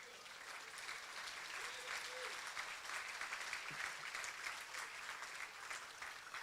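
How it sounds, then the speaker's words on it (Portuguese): A church congregation applauds the Lord during a sermon, a steady, even wash of clapping from many people, heard somewhat distant and soft, sustained for several seconds. "Você pode aplaudir o Senhor?"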